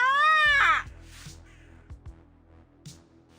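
A bird in the roleplaying folktale game Yaga gives one loud, wavering, rising-and-falling cry, followed by softer game sound effects and faint thuds.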